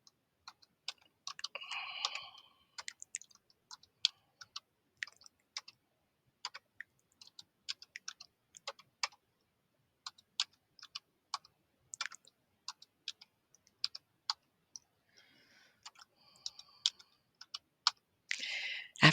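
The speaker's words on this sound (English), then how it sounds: "I'm putting the numbers in with my right-hand keyboard" Computer keyboard keys tapped as numbers are entered, brisk irregular clicks and short bursts of typing, close and clear with quiet gaps between, no talking.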